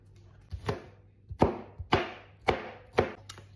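A knife chops garlic on a cutting board in about seven crisp, evenly spaced thunks, close and clear over a faint low hum, for quick pickled cucumber.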